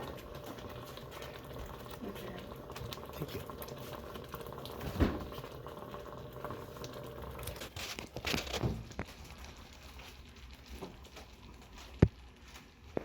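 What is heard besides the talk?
blackberry jam boiling in a pot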